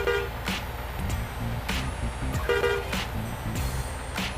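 A rice-hauling truck's horn honks repeatedly while travelling at highway speed, loud, close bursts of tooting over steady road and engine rumble.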